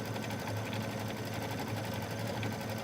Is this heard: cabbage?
no